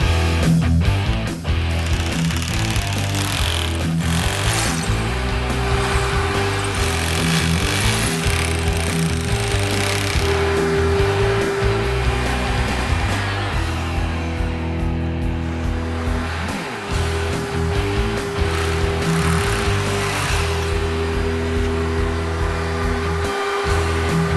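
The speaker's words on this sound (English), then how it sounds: "With an 8mm masonry bit, let's finish drilling the sides." A steady, loud power drill with an 8mm masonry bit grinds continuously into hard material, with a low hammering rumble and brief dips in pitch.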